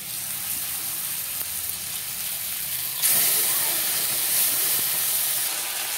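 Ground spice paste dropped into a hot pan for a tilapia curry, a low steady hiss that suddenly swells into a louder, brighter sizzle midway and keeps crackling after.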